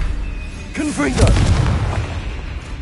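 A Confringo blasting spell goes off in Hogwarts Legacy during a hard fight: one booming burst with a rumbling tail, close and loud, while a voice talks over it.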